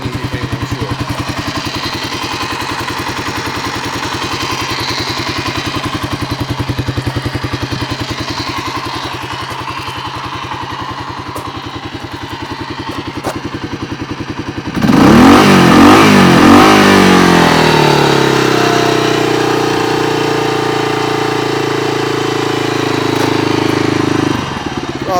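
A 1985 Kawasaki KLR250 motorcycle with a sticky throttle cable idles quietly, then from midway a louder rev kicks in and settles into a steady, closer engine drone that holds to the end.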